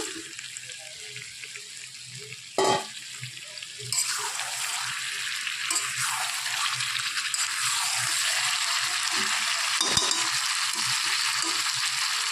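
Pre-fried potatoes tipped into a pan of frying chicken, with a brief clatter followed by steady, fairly loud sizzling that continues throughout, with occasional stirring scrapes and no talking.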